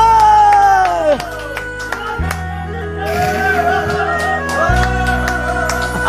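A TV singing competition audience claps and cheers behind a performer, with steady crowd applause and whoops mixed under amplified music and singing.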